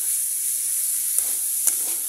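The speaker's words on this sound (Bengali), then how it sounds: "পেঁয়াজটা ভাজি করবো হালকা।" Onion frying lightly in a pan after fish has been fried, a steady soft sizzle and hiss throughout with a couple of faint clinks of stirring near the end, no talking.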